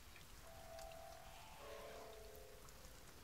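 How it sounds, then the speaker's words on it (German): Steady rain falling in the survival video game The Forest, a soft even patter throughout with faint tonal game sounds drifting over it; no speech. "Oh, es regnet."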